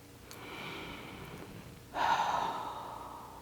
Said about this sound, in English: take a deep cleansing breath.